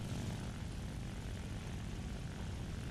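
The propeller engine of a Soviet Ła-5FN fighter plane in the War Thunder game drones steadily and loudly, a rough, even roar with no break and no voices.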